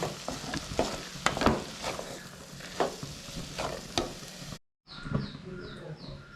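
Boiled potato stirred into a fried onion and spice masala for samosa filling, with repeated scraping stirs and a soft sizzle beneath, a brief pause, then lighter rhythmic stirring near the pan.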